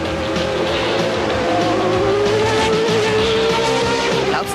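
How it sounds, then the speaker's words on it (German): A race car accelerates hard on a straight to overtake, staged as a radio drama effect: a continuous loud, rising engine whine with a tire squeal near the end, heard alone without talk. "Kramer, versuch jetzt Catherine in der nächsten Geraden zu überholen"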